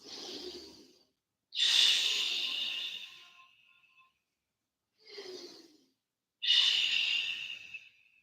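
Slow, deep yoga breaths during a seated twist: two full inhale-exhale cycles, each a short airy intake followed by a longer, louder breathy exhale, close and alone with silence between.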